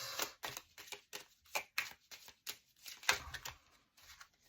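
Lenormand cards being shuffled by hand, sounding as a quick series of close, crisp riffling bursts with short pauses between them and no speech.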